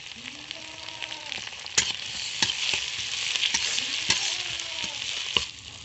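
Chopped onion and tomato fry in oil in a wok with a steady, close sizzle, broken by sharp clicks of a spatula stirring against the pan.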